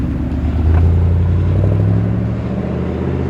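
A 1963 Holden and a Trans Am burble deeply as they leave a car show, a loud, close, rumbling low engine note that swells briefly, with no talking.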